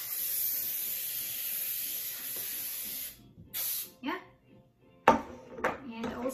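Cooking spray hisses in short bursts over a baking pan for red velvet cake, a long steady spray followed by several brief squirts close by, with a few light clinks of the pan between them.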